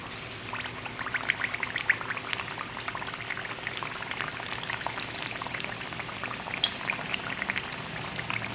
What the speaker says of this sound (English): take out one piece of potato at a time and dip it in the oil so I can fry them.